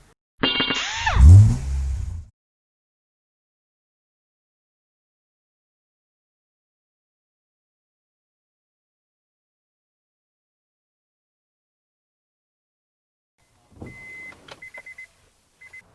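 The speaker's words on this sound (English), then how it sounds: "turn the key on, turn the wiper blades on to whatever speed, just click it on" The windshield wipers of a 2006 Honda Ridgeline run briefly, a short motor whine with a rising sweep, followed by long silence and a few faint clicks near the end.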